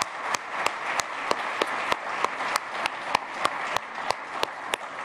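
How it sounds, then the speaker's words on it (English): An audience at a culinary event applauds its chefs, a crowd wash of clapping with one sharp, evenly spaced clap standing out close by in a steady beat of roughly three per second. "So just another round of applause for all of our chefs"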